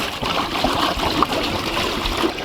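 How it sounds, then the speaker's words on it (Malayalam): Water poured into a cooking pot on a village stove before rice goes in, a continuous close trickling and splashing stream, fairly loud, with no talk over it. "വെള്ളം ഒഴിച്ച് കൊടുക്കാം."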